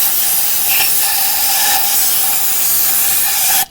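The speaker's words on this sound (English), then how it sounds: "the brake clean is washing out the Prussian blue" Brake cleaner sprays from an aerosol can onto an MGB intake valve, washing off Prussian blue in one loud, continuous close-up hiss that stops abruptly at the end.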